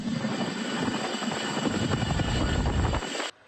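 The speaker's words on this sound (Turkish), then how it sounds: "Ayrıca kara kuvvetlerine ait ağır nakliye helikopterleri de deprem bölgesi için Ankara'dan havalandı." Heavy military transport helicopters of the Turkish land forces taking off from Ankara for an earthquake zone, a loud, steady rotor and turbine roar that holds throughout and then cuts off sharply near the end.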